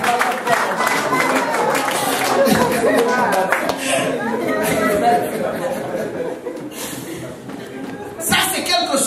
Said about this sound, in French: On acclame pour les femmes.